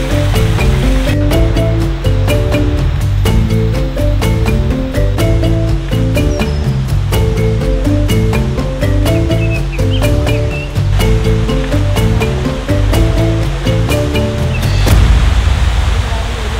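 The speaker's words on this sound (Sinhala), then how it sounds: "දෙවෙනි ඇල්ල උඩ මේ පිටිපස්සෙන් පේන තුන්වෙනි ඇල්ල." Seven Falls at Maliboda in Sri Lanka roar with a steady, dense wash of falling water, continuous and close, though low water flow is noted for a rainy season; a rhythmic music track runs over it.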